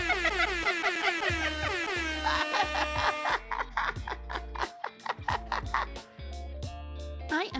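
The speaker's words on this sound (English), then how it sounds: "I already laugh a bunch when I use the air horn too many times." Loud, rapid blasts of an air horn repeat in a choppy, stuttering pattern, with bursts of varying length and short gaps between them.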